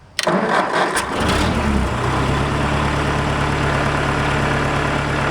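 A 1955 Ford 800 tractor engine cranks briefly with a few sharp clanks, catches within a second or two, then settles into a loud, steady, close idle that holds to the end.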